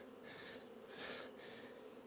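A massive swarm of bees buzzes steadily around a hive, a dense continuous drone with slight swells in intensity and no voices.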